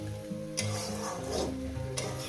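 Rui fish head and mixed vegetable chorchori being fried and stirred with spices in a pan, a steady sizzle with scraping stirs and two sharper clatters, close and continuous.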